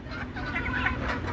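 Domestic desi chickens clucking, a close, continuous cluster of short overlapping clucks over a short stretch, fairly loud, with no talk.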